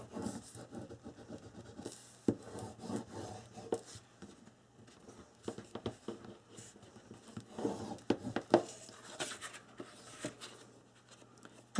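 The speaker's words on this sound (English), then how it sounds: "Burnish this down." A tool burnishes paper down onto the corner of a handmade calendar book album, giving quiet, close scratchy rubbing strokes in irregular bursts with brief pauses between them.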